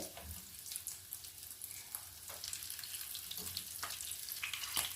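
Aloo daal kababs frying in a pan, a soft, quiet sizzle with a few light scrapes and clicks as they are turned over, close by, with no talk.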